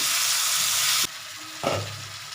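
Cauliflower curry masala for a creamy malai dish sautés in a pan at home, a steady bright sizzle that drops off and returns with a short stirring scrape, no voices.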